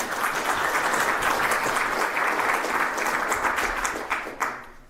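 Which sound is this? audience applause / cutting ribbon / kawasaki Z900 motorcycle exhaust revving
audience applause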